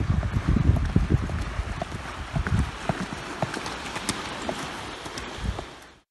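Hooves of a 34-year-old Irish Draught horse clip-clop steadily on a beach, with a broad wash of wind and surf-like noise underneath.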